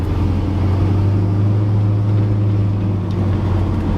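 A deep, steady exhaust grumble from an idling 1965 Ford Thunderbird with a 2.5-inch X-pipe exhaust, low and continuous throughout, with no voices.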